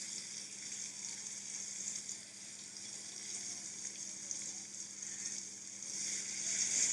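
Chopped onion frying in oil with whole cardamom gives a quiet, continuous sizzling hiss that holds steady and grows slightly louder toward the end, with no talking.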